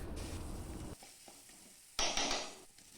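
Spice paste with chopped tomato, cumin, chili and turmeric powder and salt sautéing in a pan, a steady sizzle that drops away after a second and returns louder near the end, with no voices.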